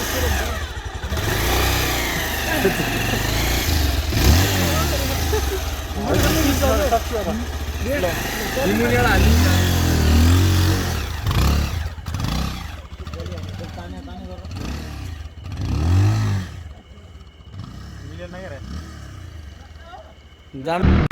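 Motorcycle engines drone and rev close by on a mountain road toward Kalikot, Nepal, rising and falling as the bikes ride, with people talking over the engine noise.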